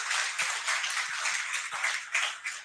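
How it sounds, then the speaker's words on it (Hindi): A crowd applauds to welcome a successful CGPSC state tax inspector candidate, steady dense clapping filling the room throughout with a few sharper individual claps standing out. "तो एक बार जोरदार तालियों से एक बार मानसी का स्वागत करें"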